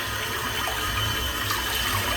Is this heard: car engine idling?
no